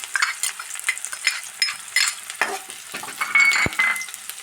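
Onion, green chili and ginger fry in coconut oil with a busy close sizzle, broken by scraping stirs and a few metallic clinks of a spoon against the pan, with no voices.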